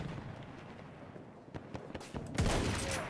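Gunfire in the video game Battlefield 1, a quick scatter of sharp shots and bursts over a low battlefield rumble, growing louder near the end.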